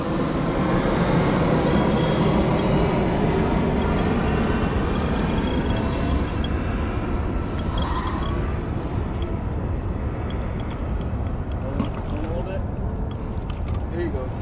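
An airplane roars overhead at a busy park during carp fishing, a loud, continuous broadband rumble that fills the whole stretch and stays steady throughout.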